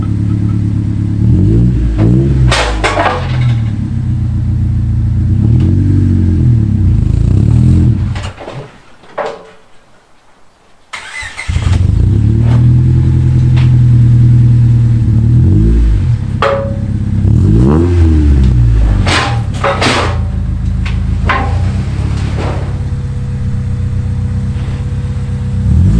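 A Honda Civic engine starts up and revs as the car is pulled out, loud revving bursts with clunks and knocks, a short near-silent gap partway, then the engine returns and rises again.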